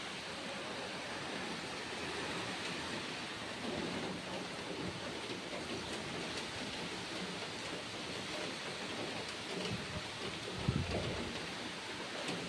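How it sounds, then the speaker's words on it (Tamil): Heavy wind-driven rain falling on fields in Coimbatore, a steady wash of broadband hiss with gusty swells. A brief louder knock sounds near the end, and no one speaks. "கோயம்புத்தூரில் ஒரு மழை பெஞ்சிட்டு இருக்குது"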